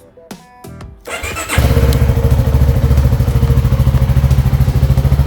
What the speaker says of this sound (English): sounds like a thumper. Little single cylinder motor.